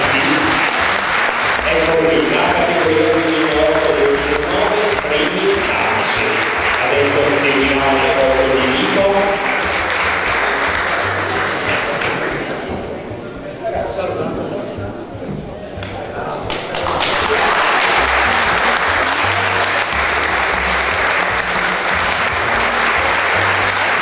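Audience applause at a local award ceremony in Castel San Lorenzo, a long sustained roar of clapping that dips briefly midway and then swells again, with a voice over a loudspeaker heard early on.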